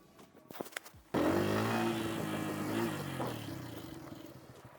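A Bajaj Pulsar P150 motorcycle brakes hard with ABS on dusty gravel, a sudden loud burst of engine and skidding tire noise with a falling pitch that holds strong, then gradually fades, preceded by quieter scattered knocks.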